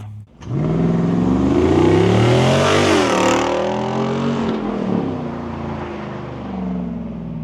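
A 2024 Jeep Wrangler Rubicon 392 Final Edition roars up to full power from a near-silent start, its V8 engine revving hard and holding loud and close, then easing slightly as it keeps driving.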